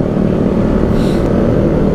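A Suzuki GSX-S150 motorcycle with a racing exhaust drones steadily during a night ride, its loud, low engine rumble constant and close, blended with wind noise.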